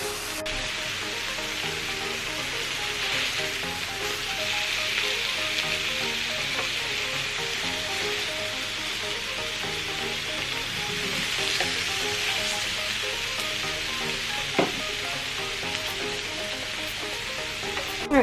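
Pork and apple burger patties crisping in a frying pan, giving a steady, close, even sizzle for the whole stretch, a few faint clicks near the end, with no talking.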